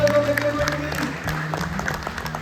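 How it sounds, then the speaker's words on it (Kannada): Loud applause from an audience at a company lucky-draw prize ceremony, a brief burst of clapping mixed with music and voices. "ಜೋರ ಚಪ್ಪಾಳೆ"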